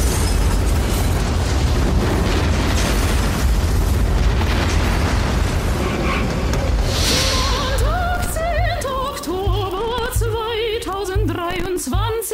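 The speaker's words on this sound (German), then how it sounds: "löste die detonierende Granate einen chemischen Feuersturm aus" A grenade detonates in an audio drama scene, a long roaring explosion that rumbles loudly for several seconds and then gives way to crackling fire and shrill, warbling tones.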